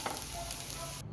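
Ghee sizzles on an akki roti in a hot pan, a steady close hiss of frying that holds evenly for about a second before cutting off abruptly.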